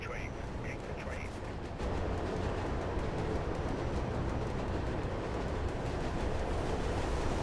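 A train passing in the Mirror's Edge video game, heard as a loud, steady roaring rumble of rolling wheels that swells slightly partway through and continues without a break.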